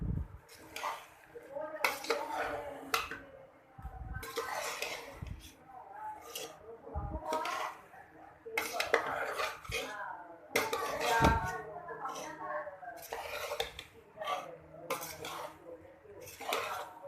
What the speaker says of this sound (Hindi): अब हम इसको करते हैं अच्छी तरह से मिक्स